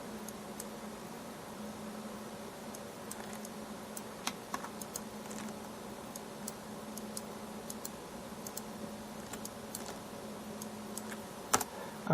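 Light, scattered keyboard taps and clicks at a computer while someone draws curves in Maya, faint and irregular against a steady background hiss.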